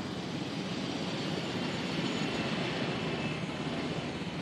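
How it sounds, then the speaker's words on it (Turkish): Helicopter in the video game Jurassic World Evolution coming in to land, a steady, dense rotor and engine roar that holds at constant loudness throughout with no talk over it. "Helikopteri buraya indireceğim."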